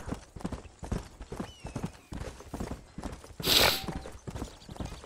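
Horse hooves clip-clopping steadily at a walking pace in the Red Dead Redemption video game on PS3, a close, regular rhythm that continues throughout with a brief louder burst of game noise midway.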